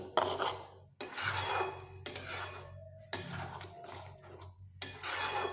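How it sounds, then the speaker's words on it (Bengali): A spoon scrapes and rasps around a pan, stirring and mixing ridge gourd in several close, bursty strokes separated by brief pauses. "আমি সব কিছু এইভাবে মিশিয়ে নিচ্ছি ঝিঙের সঙ্গে"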